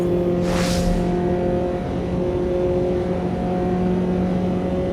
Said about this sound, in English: 190 horsepower is delivered by the 2-litre naturally aspirated